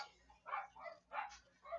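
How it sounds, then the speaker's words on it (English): Faint, distant dogs giving soft whimpers and muffled barks in short bursts against a low background hum. "Pardon the dogs."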